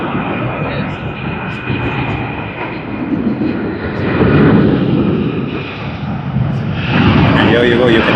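An airliner in One World livery taxis at Sydney Airport, its engines a loud, continuous broadband roar that rises and falls gently over several seconds.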